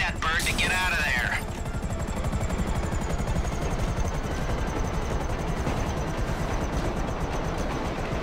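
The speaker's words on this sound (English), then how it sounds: "This is a stealth chopper, but it's got rotors." Stealth helicopter rotors in Grand Theft Auto V chop in a rapid, steady pulse throughout, close and continuous, after a brief high whooshing sweep at the start, with voices talking over the rotor beat.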